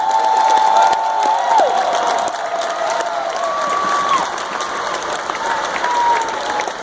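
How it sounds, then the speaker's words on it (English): A crowd applauds and cheers at a Special Olympics honors event, dense sustained clapping with scattered whoops and whistles rising over it, loud and close throughout. "So let's just give them one more big round of applause."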